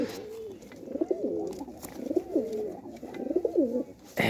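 Pigeons coo softly and close by in a home loft, several rounded rolling calls repeating in short bursts with small gaps between them.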